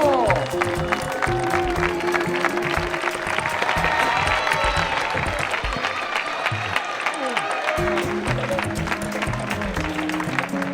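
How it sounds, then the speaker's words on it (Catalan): An audience at the Volta Cerdanya Ultrafons 2013 presentation breaks into strong, sustained applause, dense clapping that runs for the full length with a brief dip partway through. "Un fort aplaudiment per Supernato!"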